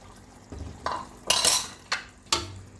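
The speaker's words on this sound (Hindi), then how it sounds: "अब मैं इसमें पालक ऐड कर दूंगी।" Spinach tipped into a pot of cooking mutton and mixed with a metal spoon: a series of five or six sharp clanks and scrapes against the pot, with a brief wet rustle in the middle.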